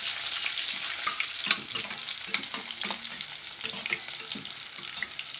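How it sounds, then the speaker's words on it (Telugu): A pounded spice paste sizzles in hot oil, giving a dense, continuous frying hiss with light stirring scrapes, loud and close, with no one talking. "కాగుతున్న నూనెలో అయితే ఇది వేసేద్దాం"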